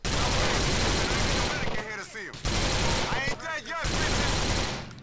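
Automatic weapon fire in the video game GTA The Ballad of Gay Tony, loud rapid bursts of shots with short gaps between them, plus some intermittent voices mixed in.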